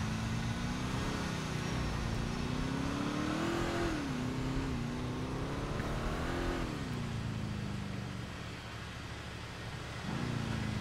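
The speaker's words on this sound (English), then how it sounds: "Who is revving their engine nonstop?" A car engine in the LCPDFR video game revs continuously in a snowy setting, a steady droning tone rising and dipping in waves, fairly distant and quiet, alone without talk.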